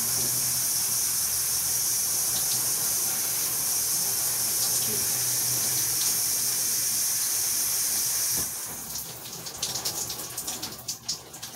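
Shower water runs in a steady, close hiss, broadband and constant for most of the stretch, then breaks up into irregular splashing and spatter near the end.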